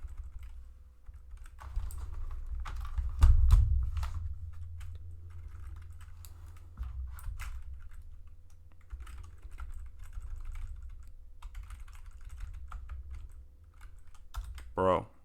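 Keys clatter steadily on a computer keyboard as code is typed out, close and fairly clear, with a low background hum and a brief louder burst of key presses near the start.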